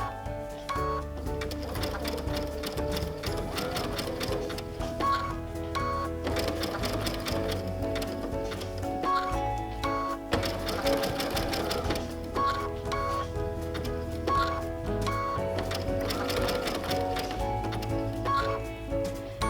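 Sewing machine running steadily for a zigzag stitch along the raw edge of fabric applique, a continuous close mechanical whir and rapid needle clatter with slight changes in pace, no talk.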